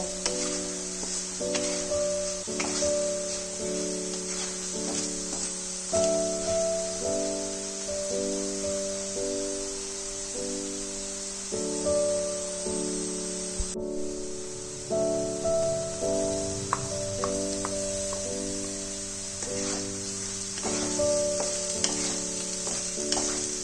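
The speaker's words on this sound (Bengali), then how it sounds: "আলুগুলো গোল্ডেন ব্রাউন হওয়া পর্যন্ত ভালো করে ফ্রাই করে নেব।" Potatoes frying in oil until golden brown, a steady hissing sizzle over a faint background tone of music, with occasional stirring clicks throughout and no voices.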